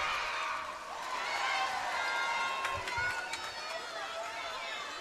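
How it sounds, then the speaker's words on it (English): Crowd at a basketball grand final between the Waverley Falcons and Ringwood Hawks, cheering loudly and steadily with whistles and shouts, sustained noise swelling briefly after a foul call. "Crowd likes that."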